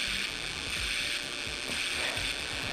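Electromagnetic interference from a light comes through the small speaker of an eavesdropper circuit as a constant harsh buzzing hiss with a rough, grinding texture, steady and close throughout.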